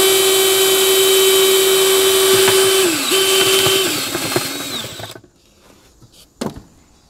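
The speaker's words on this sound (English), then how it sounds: "We're going to take our unibit here," A unibit step drill bores upward through a wall during a ductless mini split installation, giving a loud, steady high whine that dips in pitch as the bit steps down. It then cuts off abruptly, leaving faint handling clicks.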